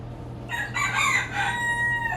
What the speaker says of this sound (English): with the roosters saying good morning.